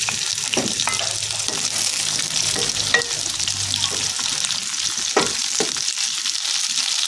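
Tomatoes stir-fried in a pan with bay leaves and lime leaves for spicy squid oseng, giving a steady close sizzle with occasional scraping stirs throughout and no voices.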